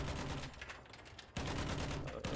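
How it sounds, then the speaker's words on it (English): Battlefield 1 gameplay with dense, continuous gunfire and explosive rumble, a brief dip in the middle before the heavy barrage resumes, no talking. "I'm getting shot at by the fucking guns"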